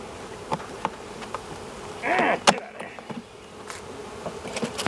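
Honey bees in a grafting box give a faint background hum broken by light taps and one brief, louder close buzz of a bee passing near, with no talk.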